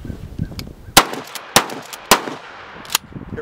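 A Smith & Wesson 3000 pump-action 12-gauge shotgun fires Federal shells outdoors, four sharp loud blasts spaced roughly half a second apart, each with a short decay, over a quiet background.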